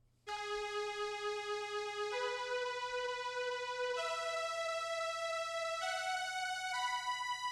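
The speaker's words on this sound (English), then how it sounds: "We're gonna add more layering to the chords with a string" A 90s RnB-style beat of layered piano chords thickened with strings plays steadily, its sustained chords shifting upward every couple of seconds, with no voices.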